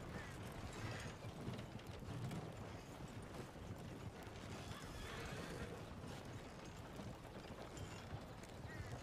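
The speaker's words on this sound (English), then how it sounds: "that horse came out of nowhere" A horse whinnies amid clopping hooves and mechanical clicking in a video game, fairly busy and continuous, with no clear talk.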